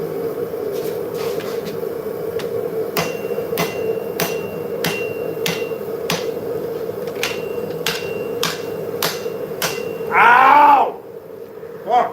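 Repeated sharp metallic hammer blows on hot metal during forging ring out at a steady pace over a constant roar, followed by a brief hiss near the end.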